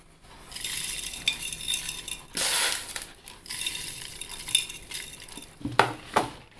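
Rock salt and whole tender mangoes dropped into a pickle jar for traditional mango pickle, giving a series of irregular rattling, gritty clatters and scraping bursts, close and fairly loud, with short pauses between drops.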